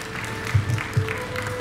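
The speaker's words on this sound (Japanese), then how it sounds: "拍手をよろしくお願いいたします" Light applause from a small crowd at a Superformula award ceremony at Fuji Speedway, a short patter of clapping that swells briefly then stays steady.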